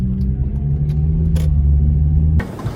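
A car engine rumbles loudly and steadily up close, holding a deep drone before dropping off abruptly near the end, with no talk.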